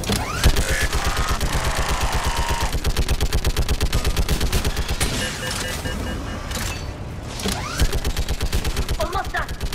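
Heavy automatic gunfire in the Mass Effect video game rattles off in rapid, loud bursts nearly the whole time, with a brief lull and a few metallic mechanical sounds, and character voices speak over the shooting.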